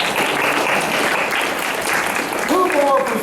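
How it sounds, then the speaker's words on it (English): An audience at a fan convention applauds panelists, a full crowd clapping steadily throughout with a voice briefly rising over it near the end. "All right, so round of applause for these two discussing the Lukes."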